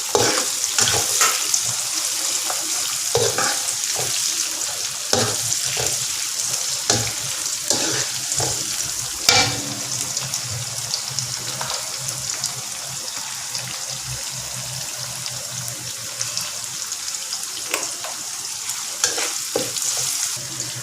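Ginger, garlic, green chili, tomato and curry leaves fry in a pan for a crab perattal, a constant sizzle broken by repeated sharp scrapes and clanks of stirring.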